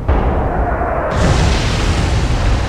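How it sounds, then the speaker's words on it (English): A glide bomb strike in the Atlantic Fleet naval game lands as a loud, sudden blast that opens into a heavy, sustained roaring rumble, dense and close with no voices. "It's a glide bomb."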